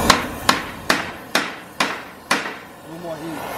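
Hammer blows on a bent steel trailer gate during a repair, six evenly spaced loud metallic strikes with ringing decay, followed by a faint voice.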